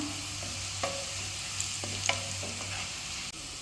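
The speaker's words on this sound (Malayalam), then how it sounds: "കുറച്ച് കുരുമുളക് പൊടി ഇട്ട് കൊടുക്കാം. ഇതൊന്ന് ഇളക്കി മൂപ്പിക്കാം." Onion, garlic, coriander and pepper powder sizzle in a hot pan for Kerala-style breadfruit upperi, with a steady frying hiss and a few scraping stirs of a spoon close by.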